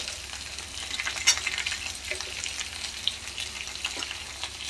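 Green banana pieces fry in a pan with steady, dense sizzling while being stirred, with occasional scrapes and small pops. The sound stays close and fairly even throughout, with no talking.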